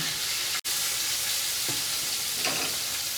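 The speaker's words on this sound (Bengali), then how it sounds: "মাছ ভাজা কমপ্লিট" Continuous hissing sizzle of prawns frying in a pan, with a couple of soft clinks or stirs and one brief sharp break early on.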